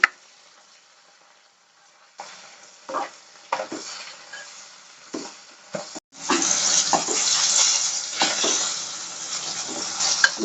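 Salt fish fries in cold-pressed groundnut and sesame oil. After a quiet start, short bursts of stirring and sizzling break in, then a loud, steady crackling sizzle fills the second half.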